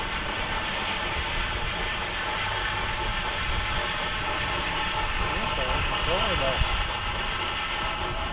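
A steady, loud rumble of a train rolling along the tracks, with continuous hiss and rattle throughout and a faint voice-like tone near the end.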